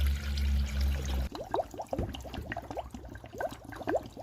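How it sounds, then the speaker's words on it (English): Water poured into the cooling system of a Dodge Ram 1500 being refilled with a 60-40 coolant and water mix, a bubbling, gurgling trickle with irregular glugs after a brief steady hum at the start. "Right, put water in."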